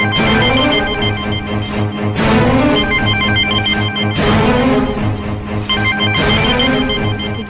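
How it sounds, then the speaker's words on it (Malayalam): A telephone rings loudly in repeated bursts of about two seconds each, with an electronic tone pattern and no voices. "ആ യശോദയല്ല, ചിത്രയെ ഫോൺ എടുത്തേ."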